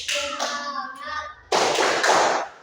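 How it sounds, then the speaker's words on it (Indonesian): A school class does a rhythmic spirit clap, group voices chanting briefly before bursts of many hands clapping together in quick, loud, patterned rounds. "Yuk, tepuk semangat."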